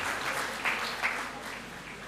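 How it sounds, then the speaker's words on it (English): Audience applause at a teachers' college research day, a short burst of moderate clapping that fades slightly toward the end, with no talking over it. "Should give yourself a round of applause."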